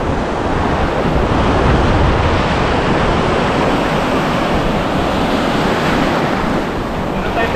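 Sea waves wash steadily onto a summer beach in Carrara, Italy, a broad continuous roar with heavy wind buffeting the microphone throughout.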